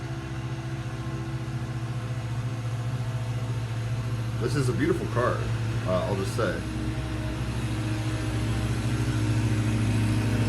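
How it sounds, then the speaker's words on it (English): A loud, steady low engine rumble of a tractor pulling two trailers past drones throughout, with a person speaking briefly over it. "Oh, there's a very loud truck coming."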